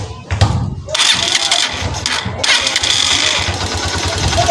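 A motorcycle engine cranks over on its electric starter and catches, settling into a steady mid-pitched running note, loud and close, with a voice speaking briefly near the start.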